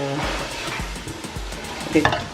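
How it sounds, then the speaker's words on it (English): Fresh tomatoes stirred into cooking tomato paste in a pot for Ghanaian red rice, sizzling steadily close up with a few scraping stirs and a clink near the end, no talking. "So I'm gonna add my fresh tomatoes into here."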